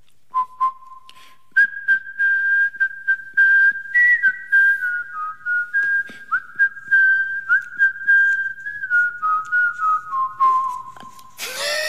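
The Squid Game theme tune whistled solo, clear and close, with a run of short phrased notes that rise and fall.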